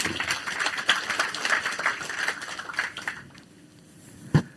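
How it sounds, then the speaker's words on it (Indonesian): Congregation applause at a morning prayer sermon, a dense patter of clapping for about three seconds that thins out, then ends with one sharp louder clap near the close. "Kita beri tepuk tangan."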